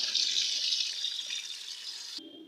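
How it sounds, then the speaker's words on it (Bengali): Chicken meat, bone-in, being rinsed under a running kitchen tap, with a steady hissing stream of water that cuts off abruptly near the end, leaving a quieter low gurgle. "খুব ভালো করে মাংসটাকে ধুয়ে নিতে হবে।"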